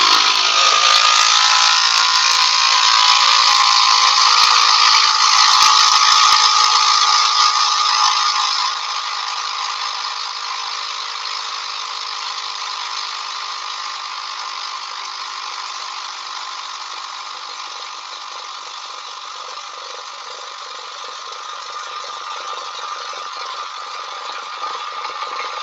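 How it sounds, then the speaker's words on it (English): Small electric motor spinning a core, a steady high whine with a mechanical ratcheting buzz that runs continuously, loud at first and then settling slightly quieter, close by, with no talking. "It's driven by a little motor."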